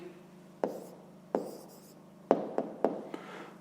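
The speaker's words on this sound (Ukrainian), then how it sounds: "зараз записуємо відповідь тоді до першого завдання" Pen strokes on paper as an answer is written out for a fifth-grade maths exercise: several short, crisp scratching bursts, close and fairly quiet, with brief pauses between them and no voices.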